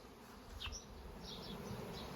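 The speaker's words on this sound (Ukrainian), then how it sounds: "це хмара з бджіл" A swarm of honey bees flies outdoors over a village vegetable garden, giving a steady, faint insect hum with a few brief buzzes from bees passing nearer.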